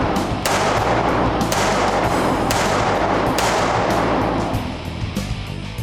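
Handgun shots ring out in fast succession during a shooting class at a range, loud sharp cracks with echoing tails, several evenly spaced reports over a few seconds, no talking.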